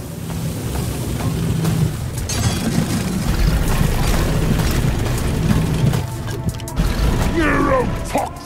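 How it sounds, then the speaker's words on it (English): A neurotoxin grenade going off in Deep Rock Galactic during an elite deep dive: a heavy boom within a constant loud din of mechanical game noise and rumble, with brief voice callouts near the end. "Neurotoxin grenade!"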